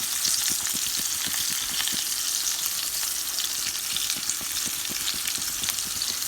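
Steak searing in a hot pan, a loud, dense, continuous sizzle with crackling pops, close up and steady throughout with no talking.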